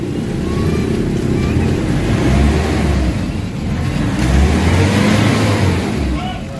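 A 2000 Nissan Navara engine with low power and fuel knocking revs loudly and close, rising in two surges of deep rumble with a rough, knocking undertone; a voice speaks faintly underneath.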